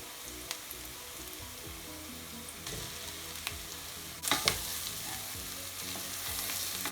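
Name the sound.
onions frying in pan for lamb curry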